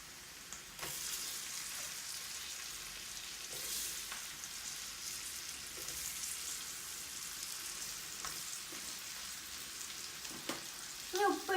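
Garlic frying in hot oil in a pan for garlic pickle, a steady close sizzle with occasional stirring scrapes and clinks throughout.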